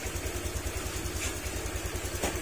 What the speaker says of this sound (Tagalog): Okay, ito na yung tunog ng makina niya mga sir.